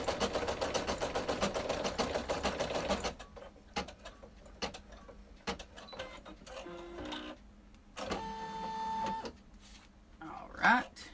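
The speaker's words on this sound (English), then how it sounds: "We've just been talking and stitching some towels." A home embroidery machine stitches towels with a steady fast mechanical clatter for about three seconds, then quieter intermittent whirs, clicks and short motor runs follow.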